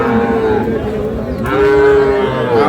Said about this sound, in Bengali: চমৎকার দুটি বাছুর গরু আমরা শুনছি